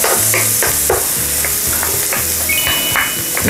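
Garlic and onion sauté in a hot pan as the base for milkfish belly, a loud, dense, constant sizzle with rhythmic scraping of a spatula stirring close by.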